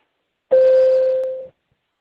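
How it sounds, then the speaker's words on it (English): A single steady electronic warning tone marking three minutes remaining in a court teleconference argument, about one second long, clean and loud with no talking. "we will sound a single tone that sounds like this."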